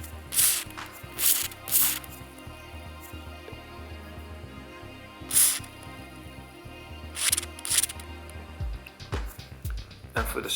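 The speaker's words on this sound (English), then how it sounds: "So I'm going to use this spray" Short hissing bursts of grease spray from an aerosol can onto the gears of a Traxxas Slash 4x4 RC car, several separate sprays spaced a few seconds apart, close by, over faint handling clatter.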